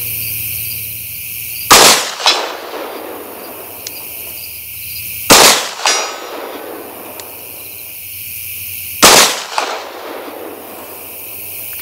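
Three rifle shots are fired at a target 100 yards away in daylight, each a sharp, loud crack with a rolling echo, spaced a few seconds apart over a faint background of insects.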